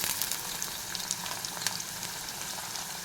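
Ginger garlic paste frying with onion in a pan, a dense, continuous hissing sizzle held at an even level, near and fairly loud.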